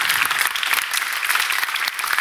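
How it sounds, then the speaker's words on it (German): An audience claps steadily after a panel discussion, a dense, even patter of many hands that holds at a strong level throughout. "Ganz, ganz großen Applaus für die vier Gäste hier auf dem Podium."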